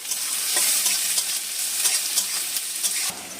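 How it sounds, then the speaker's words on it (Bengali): Chopped onion, green chilli and capsicum fry in hot oil, a dense bright sizzle that holds steady throughout, broken by the occasional scrape of a spatula stirring the pan. "আর পেঁয়াজ আর ক্যাপসিকামটা ভাজতে ভাজতে"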